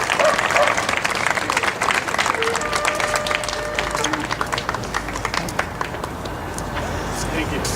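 Audience applause at a political event in Rhode Island, dense steady clapping from a crowd that carries on throughout with faint background murmur.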